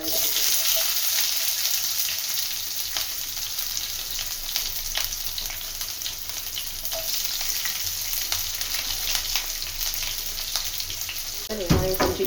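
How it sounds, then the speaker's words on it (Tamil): Mustard seeds spluttering and shallots frying in hot oil for a vatha kuzhambu with sundakkai, a steady loud sizzle with scattered sharp pops throughout and a brief clatter near the end. "கடுகு வெடிக்க ஆரம்பிச்சிச்சு"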